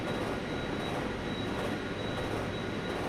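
Seoul metro K1904 rapid express train passing in the Hmmsim Metro video game, a faint continuous rail rumble and hiss with a thin steady high whine, no voices.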